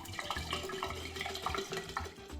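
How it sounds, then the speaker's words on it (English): Vodka being poured over lemon zest in a jar while making limoncello: a steady liquid splash and trickle with light glassy clinks, close and continuous for a couple of seconds. "Pour your vodka over the lemon zest, making sure it covers them completely."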